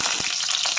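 Hot mustard oil sizzles in a pan as bay leaves, whole dried red chilies and white cumin fry for aloo kochuri, a close, steady crackling sizzle heard alone.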